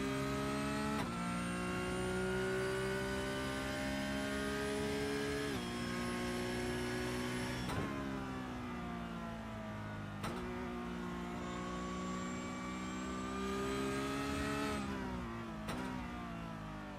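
A simulated Porsche Cup race car at Interlagos in iRacing revs hard through repeated gear changes, its engine note climbing steadily then dropping at each shift, loud and continuous with no talking.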